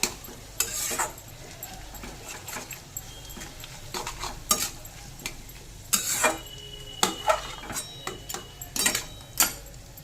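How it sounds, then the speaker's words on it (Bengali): A spatula breaks up salted, turmeric-coated fish roe in a pan with bitter gourd, giving sharp scraping clacks against the pan at an uneven rhythm over a faint sizzle, close and fairly quiet. "খুন্তি দিয়ে ভালো করে নেমে ডিমটাকে একটু ভেঙে দেবো"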